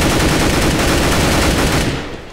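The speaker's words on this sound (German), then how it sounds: "Deploying Flashbang." A flashbang grenade detonates in the video game CS:GO on the Dust map, a loud, dense burst of noise that fills the whole clip and fades slightly at the end.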